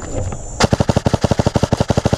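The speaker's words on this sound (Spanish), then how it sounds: "esto que acabaron de ver no fueron ráfagas, era disparos en semi" An airsoft gun fires a fast, even string of about fifteen sharp semi-automatic shots at close range, each crack distinct, during outdoor airsoft gameplay.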